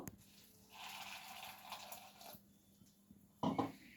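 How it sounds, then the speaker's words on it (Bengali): Water poured into a bowl of puffed rice (khoi) for tikki, a soft running splash lasting a couple of seconds, then a quieter pause before a short louder burst of pouring or sloshing near the end. "এবার এর মধ্যে আমি জল দিয়ে দেব"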